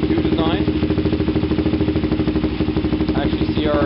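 A Honda CRF250 dirt bike engine idles steadily with a rapid, even putter, close and loud, running alone throughout.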